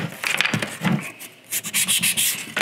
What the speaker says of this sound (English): So I'm gonna try to sand this down